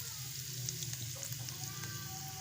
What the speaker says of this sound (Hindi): अब हम इसमें प्याज और हरी मिर्चें शामिल करेंगे और इनको सॉफ्ट होने तक हम पकाएंगे, यानी फ्राई कर लेंगे।